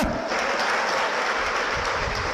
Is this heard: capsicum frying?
no